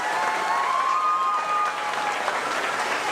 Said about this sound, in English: let's give Lieutenant Commander Martinez a round of applause